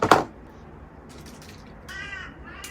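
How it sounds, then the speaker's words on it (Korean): A crow caws once, sharp and loud at the start, then quiet room tone follows with a faint higher-pitched sound near the end. "까마귀가."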